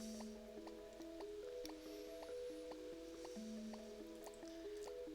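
Gentle game water from Somnium Angelus, a dreamlike scene, plays as a steady soft trickle and drip under layered musical tones, even and continuous with no talking.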